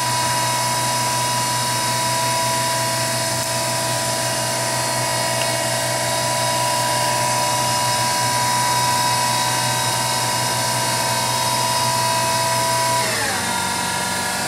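A CNC machine spindle runs at 2000 RPM in low gear, a loud steady whine with strong tonal hum that holds constant, then dips near the end as the speed changes.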